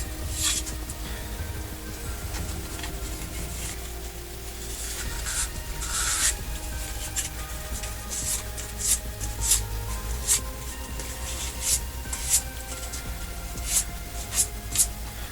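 Steady rubbing and rasping as a wooden chess piece coated in polyurethane clear coat is scuffed by hand, with short repeated scraping strokes growing more distinct toward the end, close and moderately loud, no talk.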